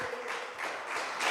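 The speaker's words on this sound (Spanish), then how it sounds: "Dale un fuerte aplauso a Jesucristo" Applause from a church congregation at a Friday night vigil, a steady wash of many hands clapping together, moderately faint and without voices over it.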